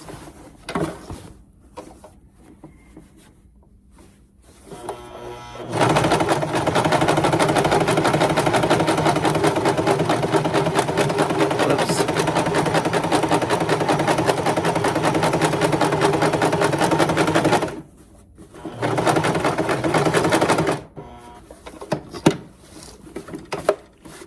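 A sewing machine stitches an appliqué kitchen towel, running loud and steady at close range for about twelve seconds, then stopping briefly before a shorter second run, with quiet handling noise before and after.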